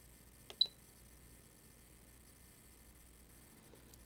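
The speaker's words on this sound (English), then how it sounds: "I'm simply going to beep the elevator one way or the other until the bubble comes in." An elevator trim control on a radio-control transmitter gives a couple of quick, faint electronic beeps near the start, then quiet hum for the rest.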